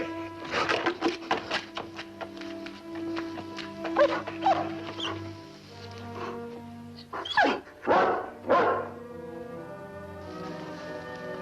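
A big dog barks in a 1960 Western TV drama, several separate woofs spread across the scene, with bursts of whimpering and yips between them, over a faint steady background hum.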